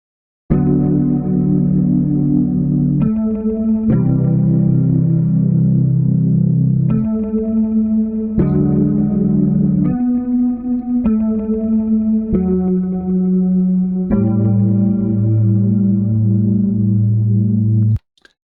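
Electric guitar on its rear pickup run through the Witch Pig Kontakt ambient preset, a sequence of sustained, heavily effected chords changing every couple of seconds, with a chorused, echoing wash that barely sounds like a guitar, played alone.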